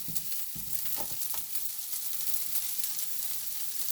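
Potato wedges frying in a pan, a steady sizzle broken early by a few scraping stirs, with no one talking.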